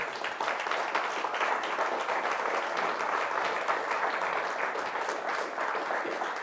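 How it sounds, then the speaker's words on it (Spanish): Sustained applause from a church congregation, a dense steady wash of many hands clapping at even loudness throughout, with no voices over it. "Démosle un aplauso al Señor."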